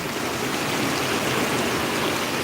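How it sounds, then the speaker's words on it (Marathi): Water rushes steadily in a dense, loud hiss from a rain-swollen drain flowing full during heavy rain, continuous and unbroken throughout. "नाला आहे आमच्या बिल्डिंगच्या मागेच आहे तो पण पावसातून असा तुडुंब भरून वाहतो"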